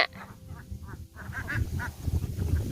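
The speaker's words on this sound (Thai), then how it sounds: "เป็ดตกใจหรือเปล่าเธอ เป็ดไข่ตกใจเธอไหม" A flock of laying ducks quacking, busy and overlapping, repeated honking calls rising and falling close by with no talking.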